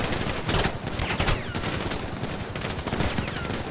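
Video-game gunfire in GTA V: dense, continuous bursts of automatic shots overlap into a loud, rattling barrage with no break.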